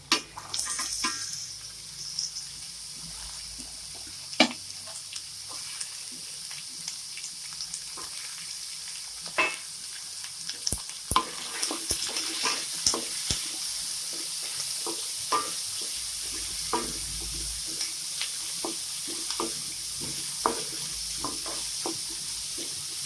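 Chopped carrots, beans and green chillies sautéing in a pan for millet upma give a soft, steady sizzle, broken by sharp clinks and scrapes of a stirring spoon, fairly quiet and with no talking.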